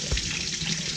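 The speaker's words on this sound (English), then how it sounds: "what I'm going to do is I'm going to fill up this empty water bottle" Tap water runs steadily from a faucet into an empty plastic water bottle, making a continuous close splashing rush with no voices.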